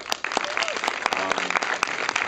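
Audience clapping at the end of a directors' Q&A at AFI, a brisk burst of hands with sharp individual claps standing out over the steady patter.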